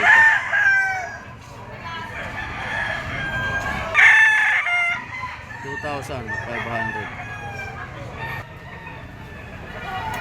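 A sweater gamefowl rooster with yellow legs crows loudly and close several times, drawn-out calls alongside clucking and other fowl, with background noise between the crows.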